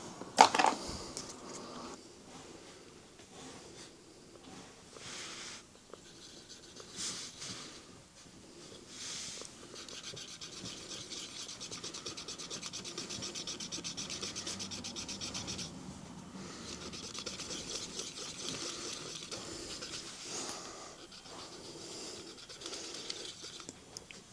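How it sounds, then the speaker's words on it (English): A cotton bud soaked in isopropyl alcohol is rubbed over a PSP circuit board to clear residue from a faulty button. Close, soft, continuous scratchy rubbing with small clicks runs throughout, with no talking. "I'll just put that on a cotton bud and we'll give it a little rub down just to see if we can get any of that residue off it"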